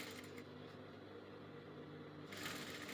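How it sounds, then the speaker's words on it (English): A sewing machine runs steadily with a fine humming whirr, stitching a quarter-inch seam allowance on a blouse with crinoline, close and fairly quiet, briefly louder near the end. "So I'm sewing using 1/4 inch sewing allowance."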